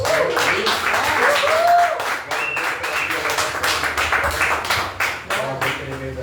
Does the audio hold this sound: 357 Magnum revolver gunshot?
no